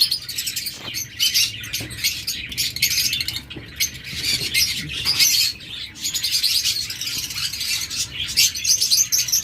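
A pair of olive opaline pet birds at a bird seller's, chirping in rapid, overlapping high tweets and short calls throughout, close and fairly loud, with soft cage patter underneath.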